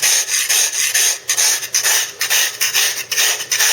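A sharpened saw-tooth drag scrapes across a wood surface in repeated rasping strokes, loud and close, with short gaps between passes.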